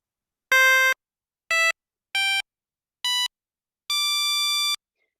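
Five synthetic, organ-like tones from a virtual piano app playing chords, one after another, the first and last held longer, each bright and buzzy with no talking.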